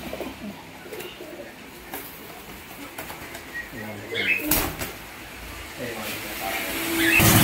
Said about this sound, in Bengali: কীরকম গরম পায়রা দেখুন, এই যে ডাক করছে, একটা মুরগির মতন সাইজের পায়রা